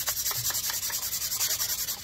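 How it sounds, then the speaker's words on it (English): Hand scuff sanding on a wooden jewelry box makes quick, even back-and-forth rubbing strokes, about five per second, close and steady with no talking. "scuff sanding, it doesn't need to be like super, super, we're just trying to get a little bit of a rougher surface"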